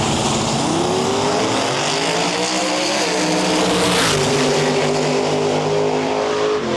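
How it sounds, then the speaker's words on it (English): A twin-turbo Mustang and a Chevy II launch side by side at a drag strip, engines roaring loud and continuous with rising revs and a dense turbo whine throughout, no talk. "Laney Abney in that twin turbo Mustang"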